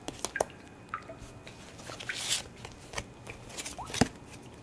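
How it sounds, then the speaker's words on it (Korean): Tarot cards drawn from a deck, several soft, brief card slides and flicks coming close together, each crisp and quiet, with no voices. "추가 카드로 2장의 카드를 뽑아보도록 하겠습니다"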